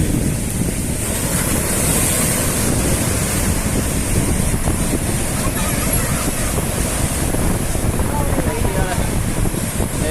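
Ocean surf at Puri beach rolls in continuously under heavy wind buffeting, a steady broadband wash close to the shore, with people talking faintly in the background.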